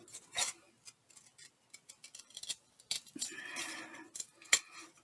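Scissors snip out the corner of a paper page, a run of crisp close cuts with short pauses between, followed by a longer sliding cut and a final sharp snip, with no talking.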